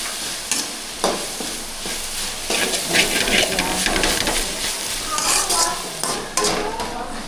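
Onions sauté in a pan with a steady close sizzle and frying hiss, repeatedly broken by the scrape and clack of a spoon stirring against the metal.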